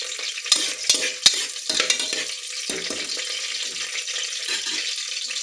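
Curry leaves and green chillies crackle and sizzle in hot oil for mutton sukka, with sharp pops and scrapes of stirring early on, settling into a steady close frying hiss.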